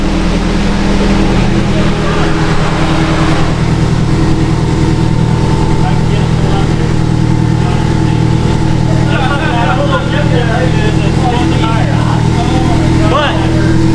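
A heavily tuned Subaru STI roars on a dyno, a loud, continuous engine drone with a deep rumble running throughout while people talk excitedly over it.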